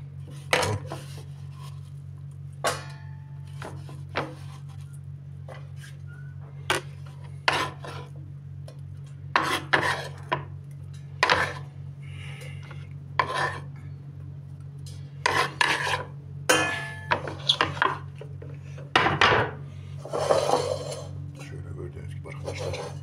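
Food goes into a cooking pot for a Turkish topalak dish, with scattered metallic clinks, scrapes and rubbing of pots and utensils over a steady low hum.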